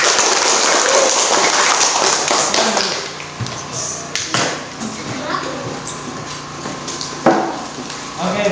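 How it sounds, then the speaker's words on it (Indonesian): A classroom group claps together in a dense, loud burst of applause that fades after about three seconds into scattered taps and light handling noise, with a voice speaking briefly afterward. "Tepuk tangan untuk kita semua."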